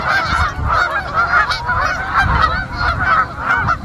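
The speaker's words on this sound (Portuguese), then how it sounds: "Olha a quantidade de ganso que tem ali" Loud, overlapping honking from a big flock of geese flying south, calls rising and falling in uneven bursts with no talking.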